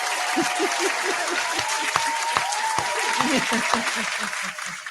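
Scattered hands clap for a podcast guest while a few distinct louder claps punch through a steady wash of applause, and faint voices murmur underneath.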